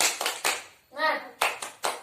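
A class of children claps in a short rhythmic pattern, sharp close claps in quick bursts broken by a brief voiced chant.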